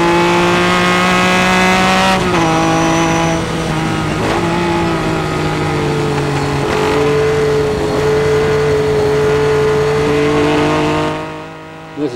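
A Ferrari 246S Dino races at the Goodwood Revival 2003, its loud, close engine droning continuously with pitch drops at gear changes, before the sound fades away at the end.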